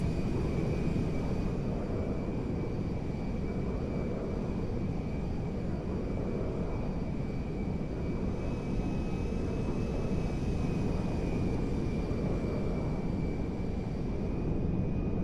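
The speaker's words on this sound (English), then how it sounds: "we're going to fly right over Paleto Bay and continue our descent" Air Force One jet in GTA 5 cruising and descending past Paleto Bay, a steady, loud engine roar with broad rumble and a thin high whine, unbroken and alone throughout.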